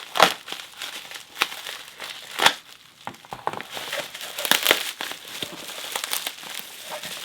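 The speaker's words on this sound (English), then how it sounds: "we're just going to cut right into it, I think, to get it open" A package holding a 3D-printed lock is cut and torn open, with crinkling plastic and cardboard, sharp snips and tearing crackles that come in irregular bursts close by, and no voices.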